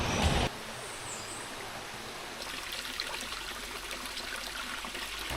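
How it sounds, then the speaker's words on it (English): A waterfall and flowing water in the Puerto Rican jungle make a soft, steady rush with trickling, heard at a distance and fairly quiet, with no one talking. "There's a waterfall and there's water."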